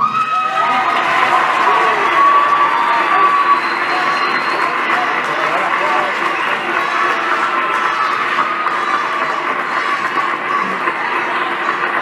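A large crowd applauds and cheers continuously, a dense wash of clapping and shouting that holds steady throughout.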